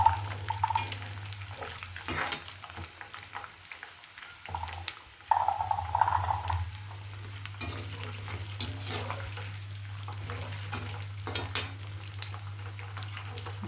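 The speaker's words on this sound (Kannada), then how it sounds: "ನೋಡಿ ಸ್ವಲ್ಪ ಹೊತ್ತು ಫ್ರೈ ಆಗಬೇಕು ಎಣ್ಣೆಯಲ್ಲಿ." Oil frying and being stirred in a pan while making star gooseberry pickle, with a steady low sizzle, scraping spoon strokes and occasional metal clinks, fairly quiet and close, with no talking.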